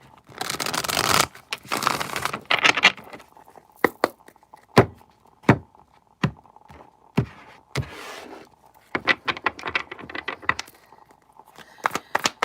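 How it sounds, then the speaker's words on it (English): A deck of tarot cards being shuffled by hand, bursts of riffling followed by separate sharp taps and card knocks, close and fairly loud with quiet gaps between them. "We'll do one more shuffle."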